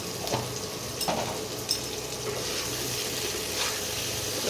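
Cauliflower pieces fry with salt and turmeric in a pan, giving a steady close sizzle with a few brief stirring scrapes and clinks throughout, no talking.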